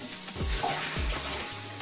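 Cocoyam being washed in water, soft splashing and swishing as the tubers are rubbed in a basin, with a couple of low sloshing strokes, faint and close, no talking.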